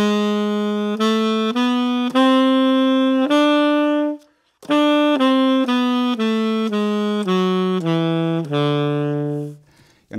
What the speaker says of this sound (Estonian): Aga nüüd see parmupilli helilaad kõlab sedasi.